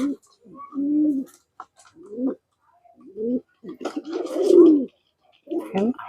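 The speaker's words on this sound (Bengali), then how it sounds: "এগুলো হচ্ছে আরেকগুলো কবুতরের বাচ্চা" Pigeon chicks coo softly up close in short throaty bursts, with quiet gaps between calls and a longer rolling coo near the end.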